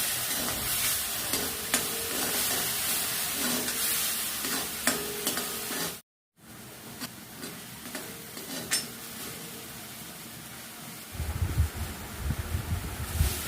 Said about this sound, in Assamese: সৰিয়হখিনি খুব ধুনীয়াকৈ ভাজি ল'ম।